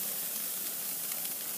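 Burgers sizzle hard on a hot cooking surface, a loud, steady, dense hiss with no pauses, close up.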